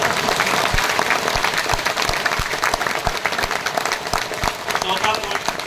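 A seminar audience in Ahmedabad claps together in a fast, steady rhythm, with sharp repeated hand claps from a large group filling the room, with talking mixed in underneath.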